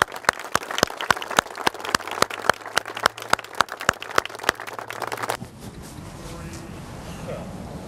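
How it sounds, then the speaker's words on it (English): A crowd applauds at a ribbon cutting for a car dealership, with sharp, dense clapping for about five seconds that stops abruptly into low, quiet room noise. "let's give a kind of a round of applause for this day"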